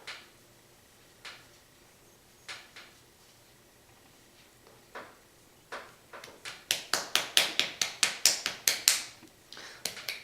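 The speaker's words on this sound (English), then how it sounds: "I'm just knocking off my brush to get any product off of there." A makeup brush is tapped against a hard surface to knock off contouring powder: a few sparse, crisp taps, then a quick burst of a dozen or so sharper knocks near the end.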